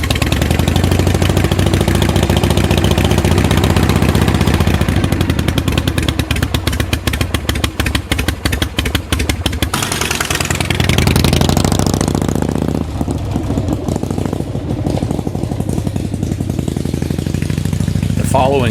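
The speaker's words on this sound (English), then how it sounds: "it's time to kick it over and take it down the street for a test ride" Motorcycle being kick-started and run for a test ride after coming out of a shed, a loud continuous engine roar with clattering mechanical noise that shifts partway through, revving steadily close by with some talk faintly beneath.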